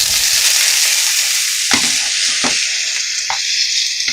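Garlic, ginger and tomatoes sauté in a pan with a steady, close sizzle, broken by a few soft stirring scrapes and clicks.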